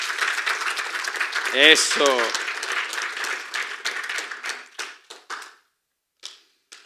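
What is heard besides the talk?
congregation applauding in church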